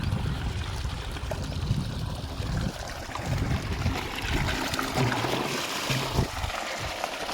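Water from a single running borewell pump gushes and splashes continuously nearby, a loud, steady rushing pour with faint irregular splatters throughout.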